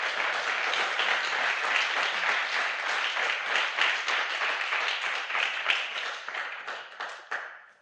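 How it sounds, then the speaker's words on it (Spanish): A church congregation bursts into loud, sustained applause, a dense wash of many hands clapping that tapers off near the end. "Dale un aplauso al Señor con todo su corazón."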